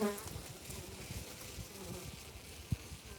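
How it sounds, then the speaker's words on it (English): A steady, dense buzz of many honey bees at a hive close by, continuous and even, with one brief thump near the end. "these bees are really very docile as well"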